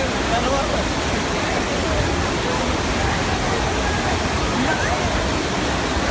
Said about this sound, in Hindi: विक्टोरिया वाटरफॉल है बाहर से पानी आ रहा है बाहर से